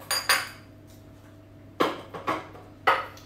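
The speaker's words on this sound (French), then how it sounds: "Je vais mélanger juste avec une spatule" A spatula scraping and knocking against a bowl while oil is mixed into cocoa madeleine batter, a few sharp clinks separated by quiet pauses.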